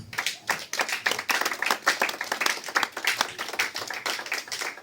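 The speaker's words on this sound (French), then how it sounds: "Acclamez pour le Seigneur" A church congregation at a Sunday service claps together in a sustained, rhythmic burst of applause, dense and lively throughout, with no speech over it.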